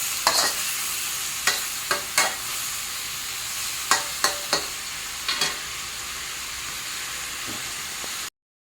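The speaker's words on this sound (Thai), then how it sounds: "ผัดไว้ประมาณสัก ห้านาทีนะครับพอให้ผักให้กระลำมันสลด" Cabbage stir-fries in a hot pan with oyster sauce, a constant close sizzle broken by sharp, irregular clanks of a spatula against the metal; the sizzle runs steadily and then cuts off abruptly.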